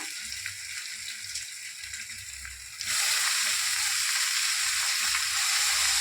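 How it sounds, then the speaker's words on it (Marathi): Karde vegetable dropped into a hot pan bursts into loud, steady sizzling and frying, close and continuous after a quieter stretch of low cooking noise. "आता ह्याच्यात भाजी घालून घेऊया।"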